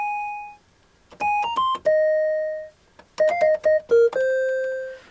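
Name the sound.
Casio MT-68 keyboard celesta melody, dry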